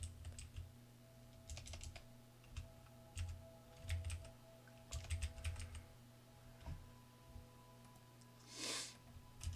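Quiet bursts of typing on a computer keyboard, clusters of soft key clicks with pauses between them over a low steady hum, plus a brief breathy noise near the end.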